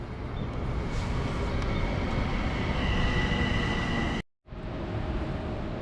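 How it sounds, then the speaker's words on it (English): A train arriving at a station rumbles steadily close by with a loud, continuous roar and faint squealing tones, then cuts off abruptly and resumes more quietly. "Well, the train's coming now."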